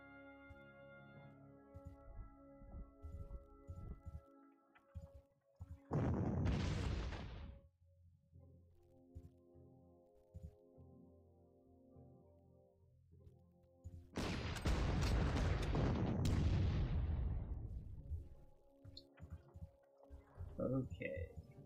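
Artillery fire in the wartime strategy game Panzer Corps: two loud, broad booming bursts with rumbling tails, one short and one longer, separated by quieter game ambience.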